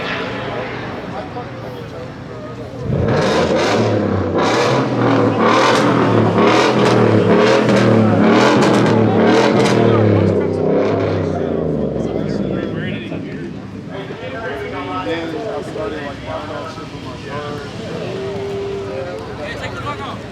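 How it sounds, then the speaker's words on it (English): A procharged Ford Mustang revs hard at a car meet, a loud, close engine roar that surges repeatedly, then settles into a lower idle amid crowd noise and people talking. "I low-key feel bad for revving my shit"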